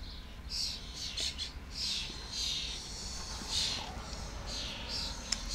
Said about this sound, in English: These birds need to be quiet!